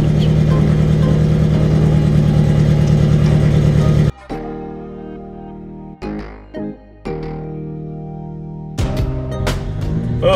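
Datsun 620 pickup with a swapped KA24 four-cylinder engine, idling loud and close with a steady rumble, then cutting out and restarting in a few short bursts of running and revving.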